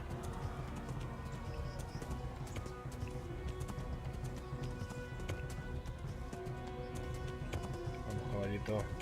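Steady clip-clop of a horse's galloping hooves running continuously in the video game Kingdom Come: Deliverance, with a dense layered game soundscape behind and a voice talking over it.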